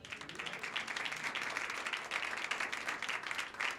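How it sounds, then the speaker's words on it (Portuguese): A church congregation at a live Thursday evening service applauds in a dense, sustained wave of clapping that holds steady and fairly loud throughout. "Dá uma salva de palmas para o teu Senhor."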